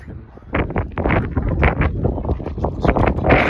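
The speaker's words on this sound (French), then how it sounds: "c'est juste le petit vent un peu glacial" Chilly outdoor wind at sunset buffets the microphone in steady, rumbling gusts that swell and ease, loud and close throughout with no clear speech.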